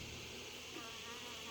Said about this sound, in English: I'll move these bees right here